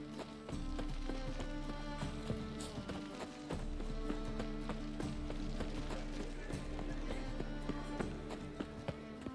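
A horse galloping in The Witcher 3: Wild Hunt, a quick run of hoofbeats clip-clopping over a low, steady bed of game ambience, moderately close and even in rhythm.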